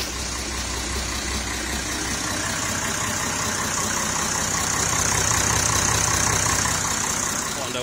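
A Perkins 6.354 diesel boat engine runs steadily at idle, loud and close, as a dense continuous mechanical rumble and clatter that swells slightly partway through.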